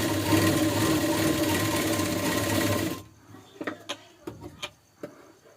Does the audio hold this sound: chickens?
no